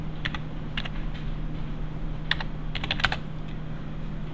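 Keyboard keys click in quick, uneven bursts over a steady low hum, a handful of taps close by with short gaps between them.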